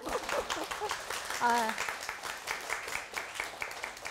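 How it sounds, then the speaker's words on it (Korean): Audience applause at a televised Korean lecture on real estate, a brief patter of clapping mixed with voices and cheers, fairly quiet and uneven. "박수 한번 쳐주세요"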